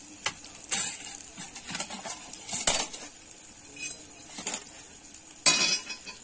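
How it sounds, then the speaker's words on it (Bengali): Sweets made from ripe palm fruit fry in oil in a pan with a soft sizzle, broken by several sharp, scattered clinks of a metal utensil against the pan. "আমি এই মিষ্টিগুলো কিন্তু একইভাবে ভেজে নেব"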